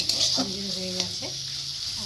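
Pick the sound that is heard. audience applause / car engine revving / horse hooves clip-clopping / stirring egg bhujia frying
stirring egg bhujia frying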